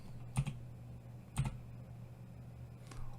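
Keyboard keys on a computer pressed to control a character in the puppet game Nightmare Puppeteer: two distinct clicks about a second apart, then a fainter one near the end, over a low steady hum.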